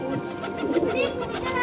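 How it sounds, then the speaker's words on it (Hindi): High-flying pigeons in a loft, housed in pairs, give soft, low throaty cooing close by, quiet and brief, with faint background noise around them. "ये हमारा सामने है जी जोड़ों वाले कबूतरों का।"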